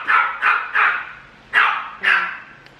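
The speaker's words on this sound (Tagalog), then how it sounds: "Pasensya na, si Coco tumatahol" A pet dog barks at home in five sharp, close yaps, three in a quick row, a short pause, then two more, loud with no talk over them.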